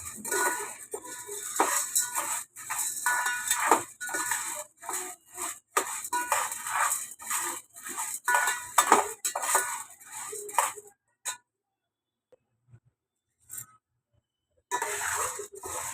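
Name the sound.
roasting chana dal in a pan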